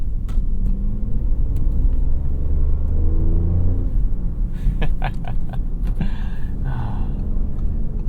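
Cabin sound of a 2023 Audi S6 with an 8-speed automatic driving in comfort mode, a steady low engine and road rumble that swells slightly as it accelerates, with brief clicks, no talking.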